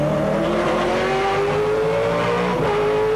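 Late-1990s V8 Supercar racing engine at the Indy support race, howling loud and close as it climbs steadily in pitch, with a brief drop around an upshift, with no talk over it.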